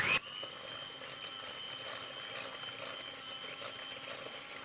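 An electric hand mixer beats eggs with a steady, fairly quiet high whirring drone that holds evenly throughout.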